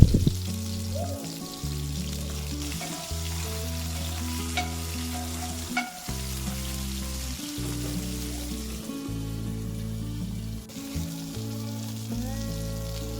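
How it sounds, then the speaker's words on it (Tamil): Small bitter gourds frying in a pan with salt, a steady sizzle beneath a loud background music track, occasional stirring sounds. "இந்த ஸ்டேஜில் உப்பு போட்டு ஃப்ரை பண்ணுங்கள்,"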